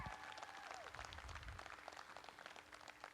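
Applause from a crowd for the exhibitors at the World Dairy Expo in Madison, Wisconsin: a faint, steady patter of clapping lasting the full stretch, distant and diffuse, with a brief tonal sweep near the start.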